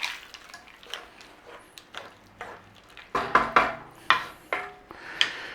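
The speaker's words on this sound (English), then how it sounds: "Stir in your peas." Peas being stirred into chicken pot pie filling in a pot, giving a series of soft, wet scrapes and clinks at an irregular rhythm, close and fairly quiet.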